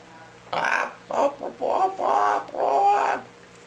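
A hen clucks in a small toy-theater puppet show, in a series of separate close, fairly loud cackling bursts with brief pauses between them, probably a human voice imitating the bird.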